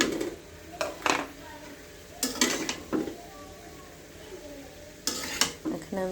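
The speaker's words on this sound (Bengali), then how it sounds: "এখন দিয়ে দেব টমেটো কুচি আর তেজপাতা।" Chopped tomato and bay leaves go into frying potato bhaji, with a soft sizzle under several bursts of spatula scraping and pan clatter, separated by quieter gaps.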